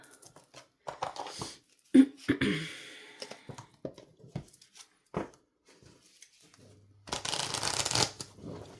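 An oracle card deck is shuffled by hand in a quiet room, with soft riffling and slapping of cards in irregular bursts and a longer shuffle near the end, mixed with faint breaths and a few murmured words.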